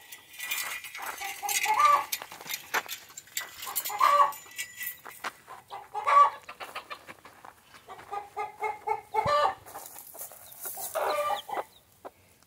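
A mother hen clucks softly and steadily near her two-day-old chicks, whose faint high peeps chirp in short bursts around her, close by and without talk.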